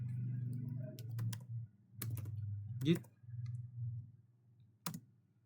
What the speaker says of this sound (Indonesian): di sini kita kasih enter, lalu kita kasih enter